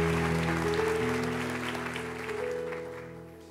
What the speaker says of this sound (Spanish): Ese aplauso estuvo como flojo.